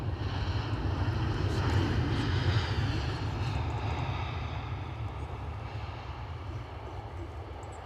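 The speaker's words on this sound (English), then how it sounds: "So we've got an EasyJet holding short." An EasyJet airliner's engines rumble and roar at Edinburgh airport, a broad, steady drone from a distance that swells a little early on and then eases slowly, with no talking.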